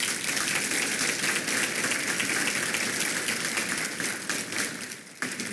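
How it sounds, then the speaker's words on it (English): Sustained applause from an audience at a regional chamber of commerce ATHENA Award ceremony, honoring past award recipients; dense steady clapping throughout, fading slightly near the end. "Can we please give them a round of applause?"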